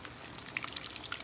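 Pork blood trickles and drips into a pot of dinuguan, a short faint run of wet splashes and droplets close by.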